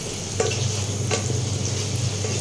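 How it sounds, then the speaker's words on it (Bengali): Potatoes sizzle steadily in hot oil in a pan while being stirred for Bengali khichuri, with a continuous loud frying hiss and a couple of distinct scraping stirs close by. "ভালো করে মিক্স করে ভেজে নেব হালকা আলুগুলো ভেজে নেব আমি"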